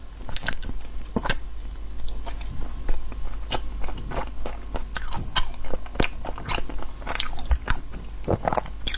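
Close-up biting and chewing of cocoa-dusted chocolate mochi daifuku with a soft glutinous rice layer around a raw chocolate filling. Repeated crunchy bites alternate with sticky, wet chewing, with no talking.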